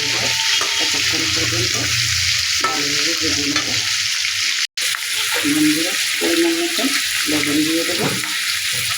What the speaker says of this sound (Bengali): এই যে মাছ ভাজা হয়ে গেছে সেটা বন্ধ করে দেবো